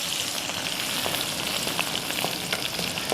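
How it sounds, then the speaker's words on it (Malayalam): Crushed garlic sizzles in hot coconut oil, a steady dense frying hiss with scattered crackles and spits running throughout, close and fairly loud with no talk. "അപ്പോൾ ഇതാ വെളിച്ചെണ്ണ ചൂടായി ചതച്ച് വെച്ച വെളുത്തുള്ളി ഇട്ടെടുത്തേ."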